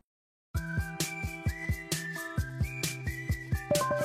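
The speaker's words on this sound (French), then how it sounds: "Le bruit que vous entendez, c'est le bruit de l'alerte attention conducteur qui équipe la Citroën C3 de Franck" A Citroën C3 driver attention alert chime rings in a steady repeating pattern of bright tones and soft clicks, moderately loud and continuous, with no voices.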